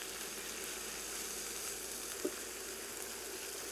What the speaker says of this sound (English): Just saute this in the beef drippings and the butter.